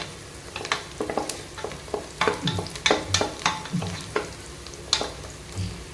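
Green chillies sauté in a pan for tomato biryani, giving a sizzling frying sound with repeated clinks and scrapes of a spoon stirring, close and fairly loud throughout.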